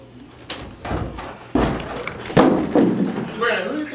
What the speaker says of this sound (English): who do you think you are kicking down my door like this?